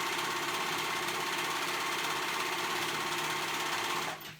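Sewing machine running steadily at close range as it stitches a hood onto a cape, a continuous loud whir lasting about four seconds before it stops abruptly.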